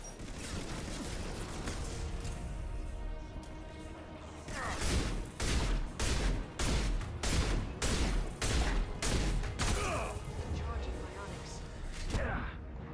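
Rapid bursts of gunfire in the video game Mass Effect 2, dense volleys of shots from about five seconds on over game noise and music, with a voice talking in the background.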